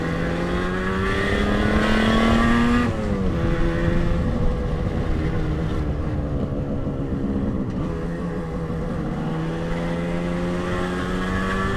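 A 1980 Moto Guzzi 250 TS motorcycle engine drones loudly while it is ridden, its pitch climbing and then dropping at a gear change before it climbs slowly again.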